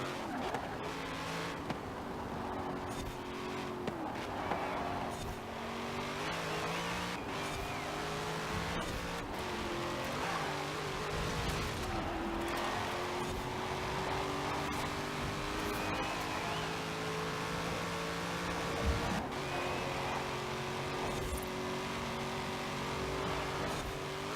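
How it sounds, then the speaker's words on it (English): A Corvette Z06 engine in Forza Horizon 4 roars steadily at close range, its pitch climbing and dropping through gear shifts and revving, with occasional tire squeal across a long continuous run. "I love the Zo6, especially when it grips up"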